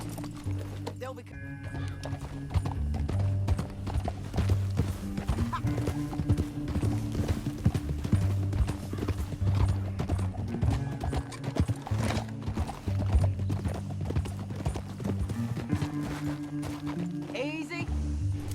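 In the video game Red Dead Redemption 2, horse hooves clip-clop in a steady rhythm with occasional neighs, running throughout under game music and characters talking.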